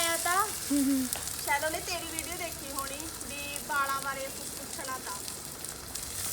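Onions frying in oil in a kadai give a steady, close sizzle with occasional stirring, running beneath a voice that talks over it throughout.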